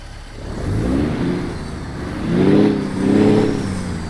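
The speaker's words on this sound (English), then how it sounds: "Love the sound of this truck." A truck engine in American Truck Simulator revs up and down in three swelling surges, heard up close as a mid-pitched drone with no talking.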